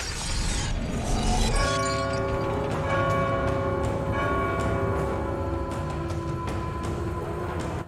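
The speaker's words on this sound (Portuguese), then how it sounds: "Tem o sino do Zeus e do Cronos." The bell of Zeus and Cronos rings in God of War 2: a loud metallic strike with a crash, then a long, sustained bell tone that hangs and slowly decays over the game's background sound.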